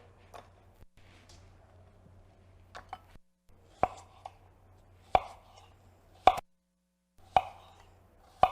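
A knife slices apples and other harvest salad ingredients on a cutting board with sparse, distinct close taps spaced about a second apart over a quiet low hum, and no one speaks.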